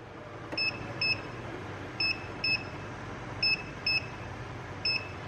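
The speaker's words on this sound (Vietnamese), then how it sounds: "nó cứ tít tít lỗi nhá" A P290 vacuum cleaner with a failed motor sounds its electronic error alarm: short, high double beeps repeating in pairs about every second and a half, clear and close over a faint background hiss.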